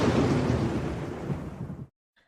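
Lightning-bolt thunder sound effect: a heavy rumbling crash that starts loud and slowly fades over nearly two seconds, then cuts off abruptly into near silence.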